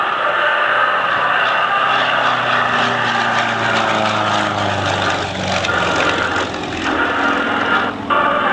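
A Yak 55M aerobatic propeller airplane flies at an air show in Lumberton, NC, its engine droning loud and close throughout with a pitch that slowly shifts as it passes.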